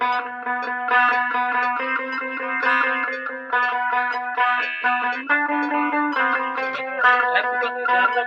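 Electric guitar with heavy distortion and effects, recorded during a band's album rehearsal, plays sustained chords and melodic lines steadily and loudly throughout, with no talking.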